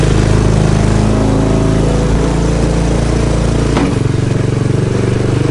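A 250cc Hammerhead go-kart engine runs loud and close with a steady buzzing drone, its pitch shifting slightly as the throttle changes near the end.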